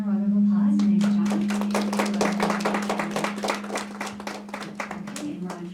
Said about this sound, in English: let's give Jocelyn a round of applause